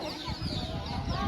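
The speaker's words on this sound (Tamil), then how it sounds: "நிறைய பேர்ட்ஸ்லாம் இருக்குது. அதெல்லாம் சவுண்டு கிரியேட் பண்ணுதா" Birds calling around the grounds of the 1000-year-old Chola temple at Gangaikonda Cholapuram, a continuous outdoor chatter of overlapping calls over steady ambient noise, with voices mixed in.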